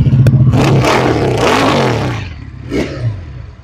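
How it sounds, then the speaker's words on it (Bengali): A 2023 Regal Raptor Spyder V3 EFI motorcycle engine revs loud and close, a rough rising roar that holds, then eases off before one shorter blip, with no talking. "সো ভিউয়ার্স, আমরা বাইকের সাউন্ডটা একটু শুনি, কেমন লাগছে?"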